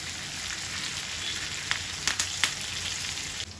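Sankara fish frying in oil in a pan with curry leaves, a constant close hiss of sizzling with a few sharp crackles and pops near the end, no voices.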